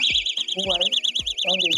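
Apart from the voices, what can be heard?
door stop alarm sounding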